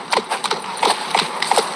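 Roach the horse trotting in The Witcher 3 video game, her hooves striking in a steady clip-clop rhythm of sharp, fairly close hits, heard without any talking.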